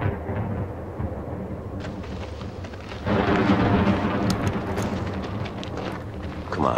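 A loud thunderstorm with heavy rumbling that swells into a deeper, stronger roar partway through, with a crackling, rain-like wash over it.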